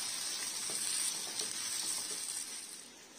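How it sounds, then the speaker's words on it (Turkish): Kuymak sizzles steadily in a pan as melting kashar cheese is stirred in, a continuous close frying hiss with faint soft scrapes and no talk. "Artık karıştırma zamanı."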